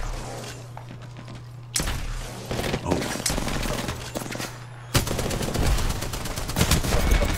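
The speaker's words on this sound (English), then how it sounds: "What kind of shotgun is this?" Shotgun fire in the video game Apex Legends: heavy blasts and bursts of rapid gunfire over a low steady hum, with sharp loud shots hitting at intervals and a brief voice in between.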